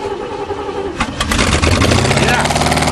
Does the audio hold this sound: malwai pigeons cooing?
no